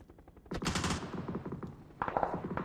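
Automatic gunfire in the battle royale game PUBG, two close, loud bursts of rapid shots with a short pause between them.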